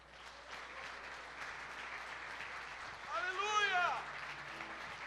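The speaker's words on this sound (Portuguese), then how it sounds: "Eu pensei que você ia aplaudir Jesus." A church congregation applauds during a Sunday celebration service, a steady wash of crowd clapping that swells briefly near the end, with a short rising-and-falling tone passing over it.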